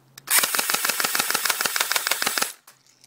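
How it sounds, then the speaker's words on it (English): Crosman Pulse M74DP airsoft gun firing on full automatic outdoors in snow, a rapid, steady burst of clattering shots lasting a little over two seconds, loud and close with no talking. "this is gonna be the automatic firing of this."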